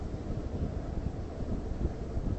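Wind buffeting a microphone outdoors on a New York City skyline view, a constant heavy low rumble with no breaks or clear rhythm, steady and fairly loud throughout.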